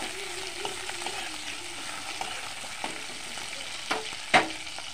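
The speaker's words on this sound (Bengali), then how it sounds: "কাঁঠালি বিচিগুলি দিয়ে দেবো, একটু নাড়াচাড়া করে নেব।" Jackfruit seeds being stirred in hot oil, a continuous close crackling sizzle with soft scraping strokes and a couple of sharper clinks toward the end.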